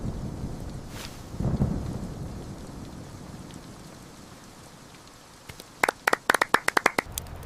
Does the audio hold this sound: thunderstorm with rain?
yes